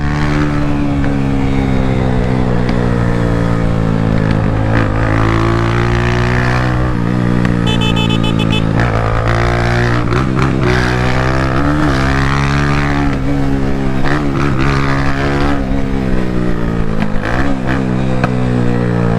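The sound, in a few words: motorcycle engine revving without a muffler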